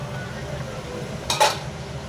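A metal lid is set onto a cooking pot of vegetarian sesame dish, one brief bright clink and rattle over a low kitchen hum.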